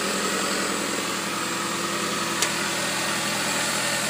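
A 1996 Toyota Camry with a 2.2 engine and 240,000 miles idles smoothly right after an oil pump change, giving a steady, even hum up close with one brief click partway through.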